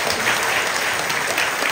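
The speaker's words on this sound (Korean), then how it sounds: "박수로 할렐루야." Congregation applauding in a church during a healing service, a continuous even wash of many hands clapping at close range with no break.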